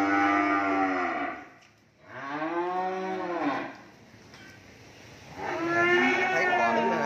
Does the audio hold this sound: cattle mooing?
yes